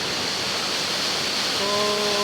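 A mountain waterfall in Iloilo roars with a dense, constant hiss of rushing water, close and loud throughout, with a faint tonal hum joining near the end.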